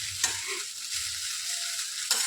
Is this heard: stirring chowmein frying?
yes